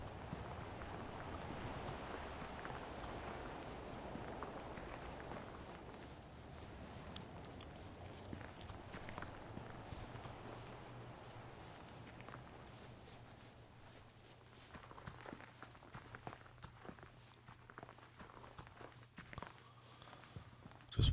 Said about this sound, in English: Just walk along this path.